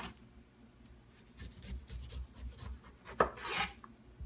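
A knife trims and cuts fruit on a board, quiet scraping and rasping strokes with a soft thunk partway through and a brief louder slice near the end, no voices.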